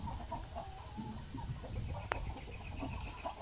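Flock of chickens clucking softly and intermittently in a hot poultry house, faint and somewhat distant against a low background hum.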